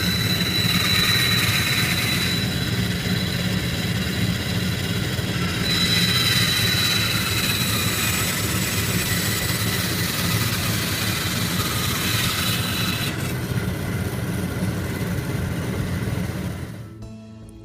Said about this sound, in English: now using the bandsaw, or you can ask your instructor to cut around the circumference of your stock to rough cut the bowl